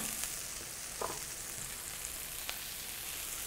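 Kale and fresh basil fry in a pan with a steady, soft sizzling hiss broken by a few faint clicks and pops, with no talking.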